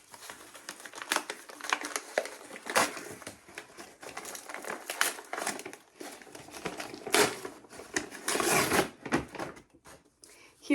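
A very well-wrapped book is unwrapped, with close, continuous paper crinkling and tearing in irregular bursts, some louder crackles and rustles, going on for several seconds.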